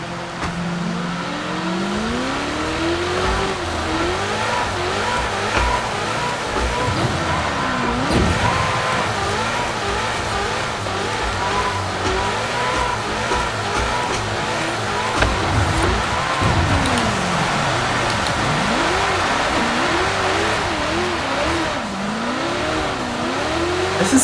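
A 600 horsepower car drifts on ice, its engine rising and falling through repeated revs and throttle swings, close and loud throughout with no talking.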